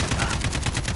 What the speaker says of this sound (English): how in the world was he shooting me?